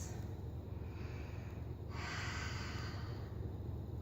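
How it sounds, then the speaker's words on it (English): Slow, deep breaths are drawn and released through the nose by a person holding a split stretch on a yoga mat, close and soft, a long airy inhale followed by an exhale, with no talking. "Give me 5 deep breaths"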